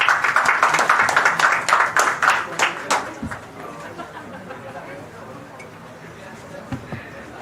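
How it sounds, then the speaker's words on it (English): A round of applause at a tech summit in Delhi, loud crowd clapping for about three seconds that thins into scattered claps and murmuring chatter, with a few isolated thumps near the end. "Please give a round of applause for them as well."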